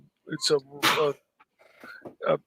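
A single sharp sneeze bursts out, close and loud, amid brief snatches of nearby talk.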